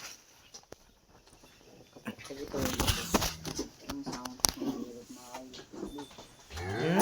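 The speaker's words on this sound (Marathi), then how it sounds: "गाय ऐकला का लय वरडायला लागली" A cow on a farm lets out a drawn-out low moo in the middle of the clip, with people chatting nearby and some shuffling noise around it.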